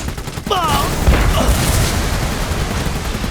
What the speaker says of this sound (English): We are being fired upon! Hostile forces near our location. Wait for it! Go! Artillery inbound!